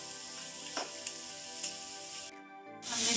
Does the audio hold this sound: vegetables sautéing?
yes